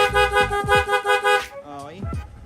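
A PIAA horn fitted to a Suzuki Raider/Sniper 150 motorcycle gives about six short, loud, evenly spaced toots, then a few weaker, wavering notes trail off at the end.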